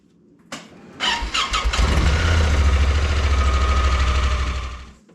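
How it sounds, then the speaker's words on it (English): A Honda Pioneer 1000 side-by-side engine cranks briefly, catches and fires up, then settles into a loud, steady idle close by before the sound fades at the end. "now we're gonna idle the machine for a second and check the"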